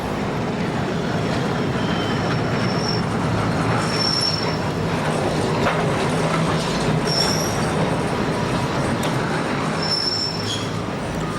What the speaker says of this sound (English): several funicular railways like this one near Rosio station help ease the strain for pedestrians